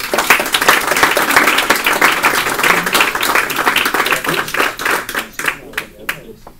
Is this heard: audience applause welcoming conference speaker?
yes